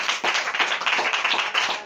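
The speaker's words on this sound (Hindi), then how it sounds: "जोरदार मेरे प्रभु के लिए ताली बजाकर महिमा करें।" A church congregation at a Sunday worship service claps for the Lord in a steady, brisk rhythm, many hands together, loud and close without speech.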